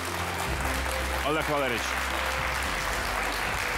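Studio audience applause on a Ukrainian television talk show, a dense wash of clapping running continuously beneath a voice speaking over it.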